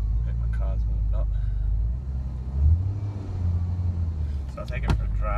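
A Nissan R33 GTS-t engine idles close by with a low steady rumble that swells briefly. A person talks over it.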